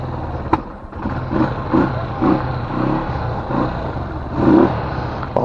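A Euro Daan Hari 125 motorcycle kickstarted, with a sharp kick clack followed by a steady low engine idle pulsing in even beats and a slight rev near the end, close by.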